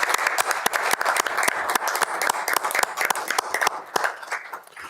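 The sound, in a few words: applause at a board meeting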